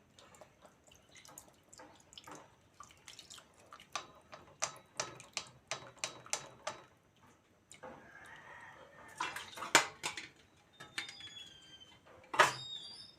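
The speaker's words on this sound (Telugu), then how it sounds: "అందుకని ఫిల్టర్ చేస్తున్నానండి చింతపండు నీళ్ళుని" Tamarind water drips and trickles through a small filter into a vessel in a home kitchen while sambar is being made, a series of close, irregular drops and splashes with short quiet gaps between them.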